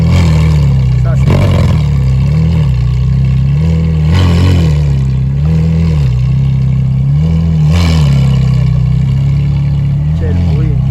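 A supercar engine drones steadily at low revs as the car reverses during an outdoor supercar gathering on a Paris quay. The note is loud and close, with slight wavering swells, and a voice talks over it.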